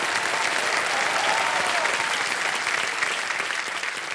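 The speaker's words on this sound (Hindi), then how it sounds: "एक बार फिर जोरदार तालियां बज जाएं उनके लिए।" Loud, sustained studio audience applause on a Hindi television quiz show set, a thick wash of many hands clapping at once, steady and unbroken throughout.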